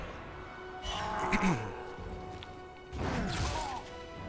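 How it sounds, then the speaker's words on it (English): A Shattering Strike attack in Lord of the Rings: The Third Age lands as a heavy smashing crash, followed by a second impact swell a moment later, set against a steady game music bed. "And there's the Shattering Strike."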